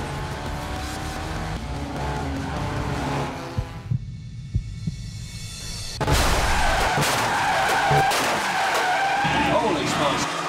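A Pure Stock race car spins out on a crowded oval on the fourth lap, its tires skidding in a loud broadband screech over engine roar, with a brief quieter gap before a harsh surge of tire noise returns.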